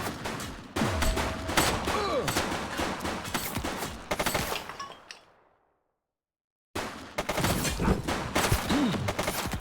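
Gunfire in the police video game The Precinct: dense rapid volleys of shots ring out loud and close, cut by a brief silent gap before the firing resumes.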